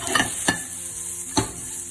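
Zucchini sautéing in a pan for bibimbap, a constant close sizzle broken by a few sharp stirring scrapes.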